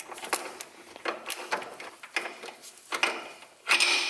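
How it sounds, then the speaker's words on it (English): A 16 mm nut being threaded by hand onto a bolt during an engine and transmission mount replacement on a BMW E46 3 Series: soft, close metallic scraping and clicking in irregular short bursts, quiet with no talking. "Now I'm just going to put the 16 millimeter nut from above and just thread it on"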